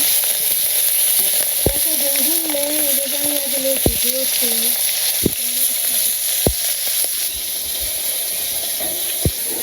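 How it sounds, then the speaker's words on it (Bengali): Hilsa fish head sizzles loudly in hot oil with cumin seeds, a dense close frying hiss with sharp spattering pops scattered across it and a high whistle-like tone, while a voice speaks briefly. "তোমার তেল গরম হয়ে গেছে, জিরা লাগিয়ে দিয়ে দিই। মাছ দিয়ে দিলাম ইলিশ মাথা।"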